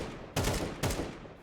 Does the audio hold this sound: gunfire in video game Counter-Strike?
yes